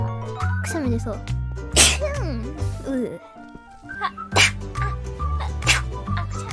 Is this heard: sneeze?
yes